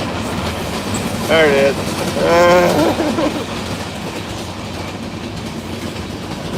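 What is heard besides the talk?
freight train passing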